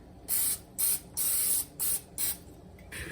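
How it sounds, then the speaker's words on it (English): Several short hissing bursts from a cooking spray can greasing a pan, about five quick sprays in a row, close and fairly loud. "Then we'll take a little spray pan and spray that the sides down real quick."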